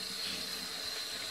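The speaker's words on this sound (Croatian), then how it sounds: "Uzmemo lepo dasku, lagano do sudopere i sad je jednostavno isperemo." Warm tap water runs over a cutting board at a kitchen sink, making a brief, steady splashing hiss close by.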